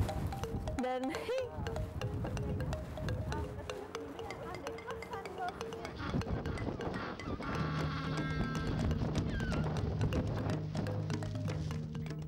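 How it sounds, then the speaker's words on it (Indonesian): African jackass penguins give harsh, donkey-like braying calls, a series of repeated honking brays at close range over a constant background of other sounds. "Karena suaranya yang kayak keledai, ngikok-ngikok, itu dinamain jackass penguin"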